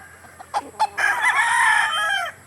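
A chicken on a farm clucks a few short times, then lets out a longer drawn-out crowing call, close and clear with no talking.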